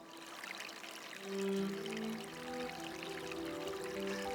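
River water from the River Tees flows steadily in a continuous rushing wash. It swells briefly midway and stays fairly close, with no voices.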